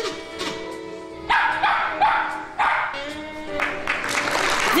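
A counting dog barks several times in sharp, fairly close bursts spaced around a second apart, with some whimpering tones and background noise between barks.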